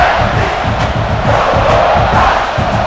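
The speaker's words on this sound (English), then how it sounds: "It's early, but this crowd is fired up. Listen to this noise here." A packed stadium crowd roars and cheers continuously in NCAA College Football 26 during Virginia Tech Hokies vs South Carolina Gamecocks, a loud, dense wall of voices with no gaps.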